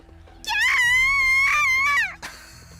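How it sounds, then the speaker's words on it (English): A single high-pitched woman's scream from the video game The Fruit of Grisaia rises and holds for about a second and a half, then breaks off abruptly, followed by a brief short cry. "she screams. The sound echoes throughout the dorm"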